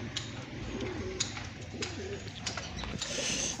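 Pigeons, including a long-bodied female, coo in soft repeated throaty bursts close by over a low murmuring background.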